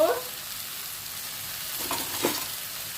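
Steady sizzle of cashews and poppy seeds frying in a pan, a soft continuous crackle with a few light clicks of stirring, fairly quiet and without speech.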